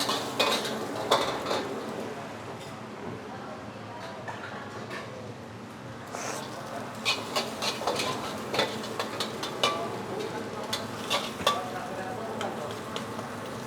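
Mie goreng for two portions is stirred in a pan in a busy restaurant kitchen, with metal utensils scraping and clanking against the pan over a steady sizzle.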